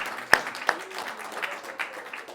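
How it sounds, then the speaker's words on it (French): Scattered clapping from a small audience at a prize-giving, starting with a couple of sharp, close claps and thinning into light, uneven patters over about two seconds. "On peut les applaudir"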